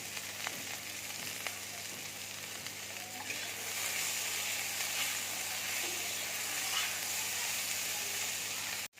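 Tomatoes and salt frying in a hot pan give a steady, close sizzle with a faint hiss and occasional stirring scrapes, continuing without any talk.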